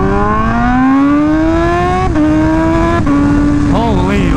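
A superbike engine revs up hard and climbs in pitch at high speed, loud and close, with brief dips as it shifts gears, heard alone.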